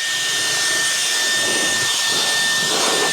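An air blower blasts dust out of a car interior, a loud continuous rushing whoosh with a thin high whine, close and steady for the whole stretch with no voices.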